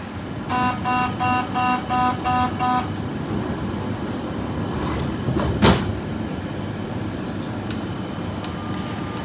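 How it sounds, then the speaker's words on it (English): A Lyon Metro Line D train pulls out of Gorge de Loup station: a repeating multi-tone departure chime, then doors closing with a sharp clunk, and a steady rumble of the train moving off underneath. "Here I am leaving Gorge de Loup on Metro Line D"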